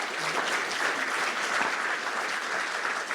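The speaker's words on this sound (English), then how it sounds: "I'd like to encourage us to give a big round of applause to first our Fire Chief" A community audience at a wildfire education night gives a big round of applause for the fire chief, a steady wash of many hands clapping throughout, fairly close and without speech.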